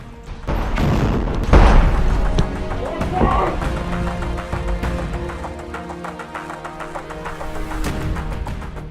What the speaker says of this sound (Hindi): घात लगाकर रॉकेट से हमला करता है, जिसमें इजराइल का वो टैंक आग के गोले में तब्दील हो जाता है।